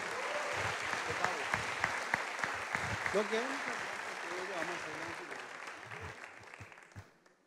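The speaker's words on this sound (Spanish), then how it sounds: "Un fuerte aplauso a los pastores." A crowd at a church service gives sustained, enthusiastic applause for the pastors, with voices and cheers mixed in, fading away at the end.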